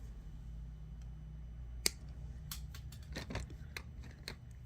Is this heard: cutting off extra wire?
yes